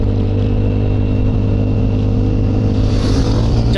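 A motorcycle engine warming up before a group ride, idling loud and close with a steady low rumble throughout, a slight rise in pitch toward the end.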